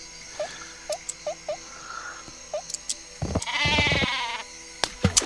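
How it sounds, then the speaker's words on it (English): Super sheep from a Worms-style artillery video game bleating in a string of short, bright bleats over game background, followed by a louder whooshing rush and a few sharp pops near the end. "That was a super sheep, by the way."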